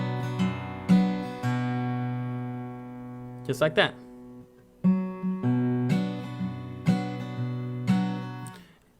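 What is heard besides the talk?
fingerpicked acoustic guitar, plucking strings then strumming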